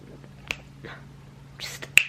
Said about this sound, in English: snap my fingers and be done